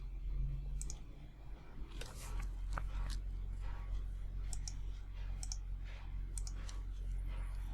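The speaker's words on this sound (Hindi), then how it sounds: "अब मैंने डबल से क्लिक किया है" Computer mouse clicks while approving entries in a Chrome browser window: several short, sharp clicks in pairs and singles, close and fairly quiet over a low steady hum.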